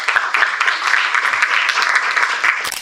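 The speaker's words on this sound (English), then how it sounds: "Don't you think they really need a big round of applause?" A crowd at a book launch event applauds steadily, a dense wash of many hands clapping that fades out at the end.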